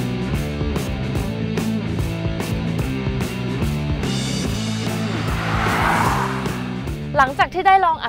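A Toyota Corolla Cross Hybrid accelerates on a test drive, with continuous engine and road noise building steadily throughout, and a voice speaking near the end.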